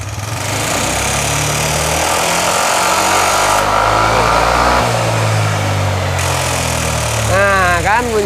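A Yamaha NMAX scooter engine idles and is revved gently, producing a steady, loud, rough mechanical rattle close by, with a short burst of talk near the end.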